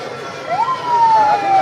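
Rescue 1122 ambulance siren during an Independence Day ceremony parade at the Faisalabad Commissioner Office: a single wailing tone glides upward, then holds and slowly falls, moderately loud over a low background murmur.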